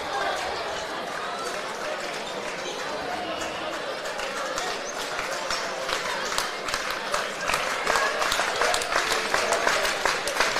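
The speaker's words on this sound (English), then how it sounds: "And the Badin crowd is starting to get into it" Badin home crowd at a high-stakes Badin Rams versus Alter men's basketball game cheering and clapping steadily, a dense wash of applause and voices that swells louder toward the end.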